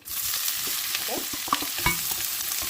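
Onion sizzling in hot oil in a home kitchen, a steady close frying hiss with a few stirring scrapes.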